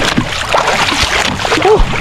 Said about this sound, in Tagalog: Malaki daw ang alon mga ka-jokes.